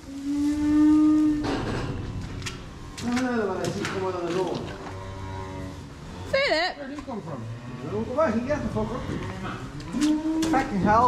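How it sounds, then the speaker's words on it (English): Cattle in a shed moo repeatedly and loudly at close range, with several overlapping calls as the last calves are housed in cold winter weather. "that's a fine shed of cattle."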